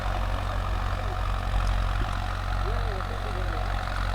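A vehicle engine idling in a farm field, a steady low rumble with a constant tone, close and unchanging, with faint background noises over it.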